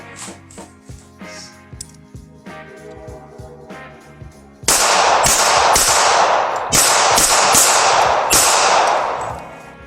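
Shots from a 1911 single-action pistol, first as a string of sharp, clipped reports, then a denser run of loud, closely spaced cracks with ringing tails that carry on for several seconds.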